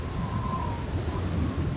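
Heavy rain on a stormy night with a deep thunder rumble, a steady dense wash of rainfall throughout, heard without talk as an effect in a children's story.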